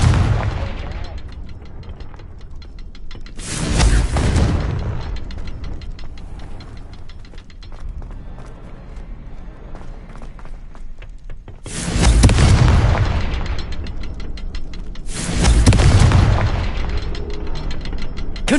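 Three heavy blasts from the Confringo fire spell in Hogwarts Legacy, each a loud booming burst spaced several seconds apart over a low game rumble.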